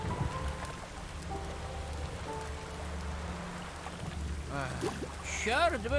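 Steady rain hisses over a low rumble with soft musical tones in The Witcher 3: Wild Hunt, and a brief chirping voice-like sound rises near the end.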